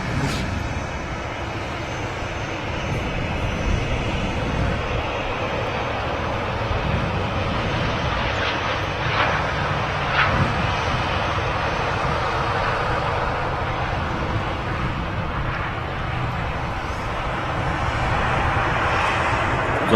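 An ATR turboprop touching down at Manchester Airport, its engine drone a steady broad wash across the whole stretch, moderately loud and fairly distant, with no voices over it.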